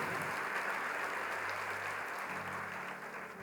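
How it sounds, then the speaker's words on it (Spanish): A church congregation applauds visiting pastors at a family university event, a steady wash of clapping from a sizable crowd that holds level and begins to taper off toward the end. "Un aplauso para nuestros invitados"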